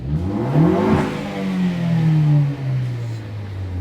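A 2013-2018 Ford Focus ST fitted with a COBB Accessport tuner revs toward 5000 rpm, the engine note climbing quickly, then easing back and settling into a lower steady hum.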